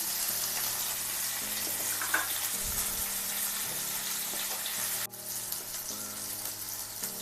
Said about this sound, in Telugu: కొద్దిగా ఒక చిన్న స్పూన్ పసుపు వేసి పచ్చిమిర్చి వేసేస్తున్నానండి.